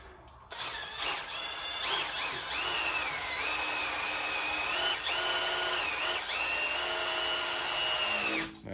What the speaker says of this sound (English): We got a drill now.